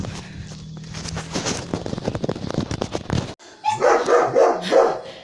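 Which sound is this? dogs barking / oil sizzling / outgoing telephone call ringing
dogs barking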